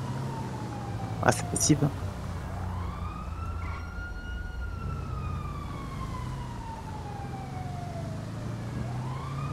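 A wailing police siren in a video game rises and falls steadily in the background, with a brief voice speaking over it early on.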